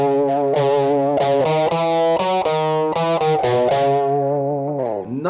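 An electric guitar played without fuzz in a classic rock tone rings out a sustained melodic line of connected notes with chorus and effects, loud and continuous throughout, with no talking.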